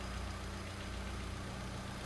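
A car engine idles during diagnosis of an intermittent stumble and rough running, slightly lean and under no load. It makes a steady, quiet low hum with an even drone and no voices.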